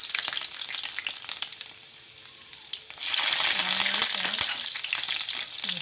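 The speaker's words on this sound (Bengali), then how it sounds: "কড়াইতে তেল দিয়ে তেল গরম হয়ে গেছে আমার। এখন রসুন দিয়ে একের সঙ্গে বসিয়ে দেব।" Garlic hitting hot oil in a wok with a sudden loud, dense sizzle, preceded by a quieter low crackle, with a few tonal scrapes of a utensil near the end.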